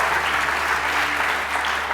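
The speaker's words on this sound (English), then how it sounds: "Ladies and gentlemen, on l'applaudit bien fort, bravo!" An audience at a UX conference applauding after a research talk, with dense, sustained clapping filling the room from start to finish.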